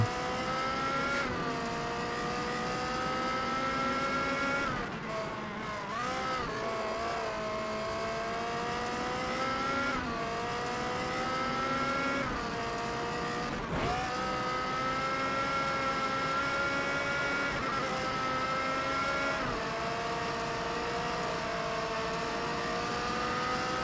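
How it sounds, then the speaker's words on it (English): Race car engine in the GRID racing game, running loud and close throughout with steady high revs, repeated gear-shift dips and swells, and brief tire-squeal accents. "This car is pretty close to me."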